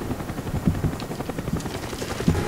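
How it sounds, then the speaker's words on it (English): A helicopter in Call of Duty Black Ops thrums with a steady, fairly close rotor chop that pulses continuously throughout. "No helicopter."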